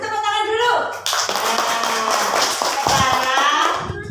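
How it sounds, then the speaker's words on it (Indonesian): In a classroom, children clap in quick, scattered bursts under a teacher's voice, short and fairly close. "Beri tepuk tangan dulu."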